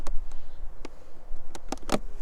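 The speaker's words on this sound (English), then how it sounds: "Hear them buzzing in there? I can hear them buzzing in it." Honeybees buzzing inside a hive fitted with a rapid feeder of sugar water, a faint low hum broken by several brief sharp knocks and rustles from handling close by.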